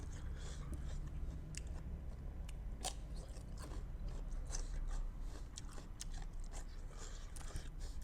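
Crunchy spicy Thai squid tentacle salad is chewed close to the mic, with a steady stream of crisp, crackly bites and wet mastication, quiet and continuous without talk.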